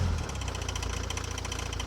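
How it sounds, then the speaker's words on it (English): A lorry engine idles with a steady, throbbing pulse and a metallic rattle riding on it, continuous and fairly close, with no talking. "it must be just something rattling"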